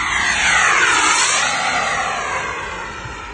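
A racing airplane's engine in a flying video game roars loud and steady, its pitch dipping and rising as it passes through a turn.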